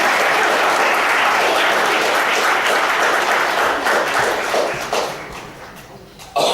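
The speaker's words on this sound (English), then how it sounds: "Give them a round of applause." A stage-show audience applauds two people on stage at a hypnosis event, a loud, dense wash of clapping that holds steady and then thins out and fades toward the end.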